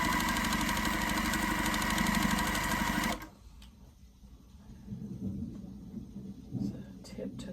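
Quilt pieces for a Stargazer quilt run through a sewing machine in a loud, steady whir that stops abruptly partway through. A person then speaks over quiet room sound.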